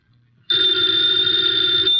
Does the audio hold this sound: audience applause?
no